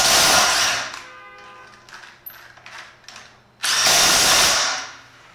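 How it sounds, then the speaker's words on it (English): DeWalt impact driver fitted with a 1/4-inch driver removing car lug nuts: a loud, close burst of whirring hammering, then a pause filled with faint clicks, then a second strong burst that trails off. "let's go ahead and use the 1/4-inch driver on a couple of the lug nuts and see if we can take it off as well"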